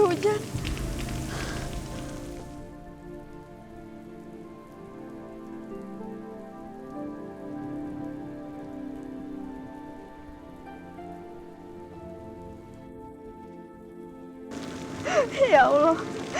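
Steady rain falling in a dramatic scene, a continuous dense patter that holds evenly throughout, with someone speaking briefly at the start and again near the end.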